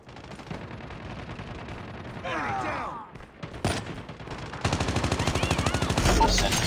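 A sentry gun in the video game Call of Duty: Mobile fires rapid automatic bursts, fairly loud, with a short whooshing interruption midway before sustained continuous gunfire takes over toward the end.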